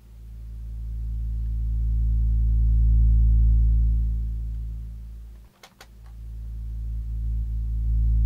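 A swell bass sampled from an instrument with a contact mic, heavily compressed with the low end rolled off, plays as a deep sustained drone that swells up and fades, with a brief dropout near the end before the tone returns.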